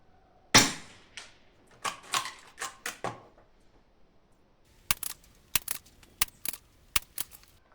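Sharp gunshots crack one after another at a shooting range, a loud opening shot then a run of spaced reports and a quicker cluster near the end, with no talk.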